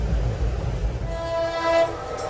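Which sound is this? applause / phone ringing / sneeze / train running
train running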